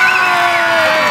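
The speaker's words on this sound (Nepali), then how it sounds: "एकपटक जोरदार ताली" A rally crowd cheers and claps for a speaker, a loud, dense wash of voices and applause that holds steady without a break, close and full.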